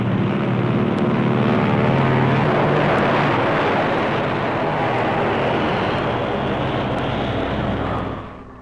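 A C-47 transport plane towing G4A gliders in pairs at cruising speed in flight, heard as a loud, steady, broadband engine and propeller drone that holds constant before easing off at the very end.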